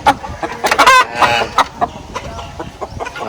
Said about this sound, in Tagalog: Mga hulong, malalaking manok.